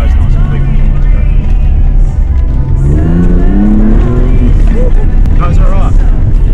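A 4WD with race lights drives through high country, its engine droning loudly and steadily with rising revs and gear changes, heard from close by with wind and cabin rumble.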